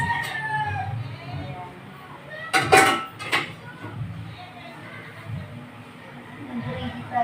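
Pots and pans clatter in a home kitchen as cooking gear is readied for scrambled eggs, a few sharp metallic clanks over a quiet background with a rooster crowing in the distance.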